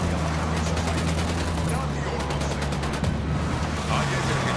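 Rapid bursts of automatic gunfire in Ghost Recon Wildlands ring out over a loud, dense wash of battle noise that never lets up.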